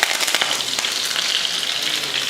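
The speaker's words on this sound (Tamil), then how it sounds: "எண்ணெய் காஞ்சதுமே கடுகுளுந்து பொரிஞ்சதுமே கொஞ்சம் கருவேப்பிலை" Loud, crackling sizzle of mustard seeds and curry leaves frying in hot oil, close up, with sharp pops scattered through the steady hiss.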